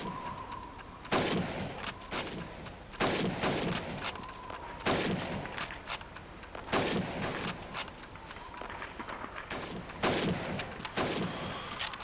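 Single rifle shots in the Call of Duty 2 video game at a training range, each a sharp loud crack spaced a couple of seconds apart with brief echoing tails, about six in a row.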